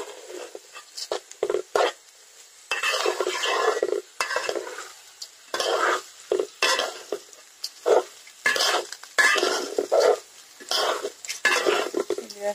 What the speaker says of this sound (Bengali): আমার চালটা ভাজার একটা শব্দ চলে এসেছে, বুঝতে পারছেন।